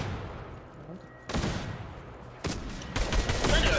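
Bursts of automatic gunfire in Fortnite Chapter 3 Zero Build mode, three rapid volleys of rattling shots at moderate volume, with players talking over the game sounds.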